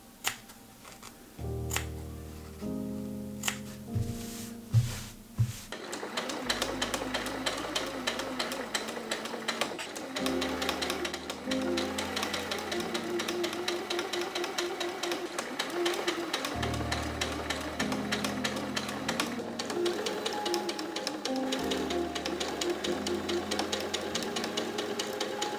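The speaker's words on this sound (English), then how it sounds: "just top stitch it for aesthetic reasons and to make the seam a bit stronger" A sewing machine top-stitching a corset seam: a few short starts and stops, then a steady, fast mechanical stitching hum running close and continuous, with brief pauses and changes in speed.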